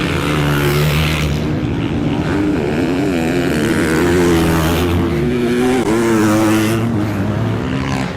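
Motocross motorcycles race into a bowl turn at an MX Open round, their engines roaring loudly and continuously with revs climbing and falling as several bikes pass close.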